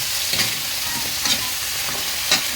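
Vegetables sautéed and stirred in a hot pan give a steady sizzling hiss, with a few brief scraping stir strokes rising out of it at intervals.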